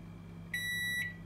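A single sustained electronic beep from a Sharp R-372M 25-litre microwave oven, steady and clear for about half a second, over a quiet low hum.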